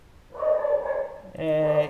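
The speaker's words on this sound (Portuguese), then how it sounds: "a cachorra está latindo assim mesmo" A female dog barks indoors near a teacher ending a lesson: two close, fairly loud bark-like yelps, the second sharper and more tonal, in a room with no other sound.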